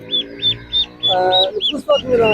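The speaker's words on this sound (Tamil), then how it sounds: "இது என்ன வாத்து இது வெள்ளை வாத்து" White ducks kept on a colored-chicken farm call out close by in a series of nasal, evenly spaced honking quacks, followed by louder overlapping calls and a brief burst of clucking-like noise.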